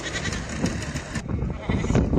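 Lambs bleat at a livestock market among sheep and goats, several wavering calls close by, mixed with crowd noise and voices talking over them.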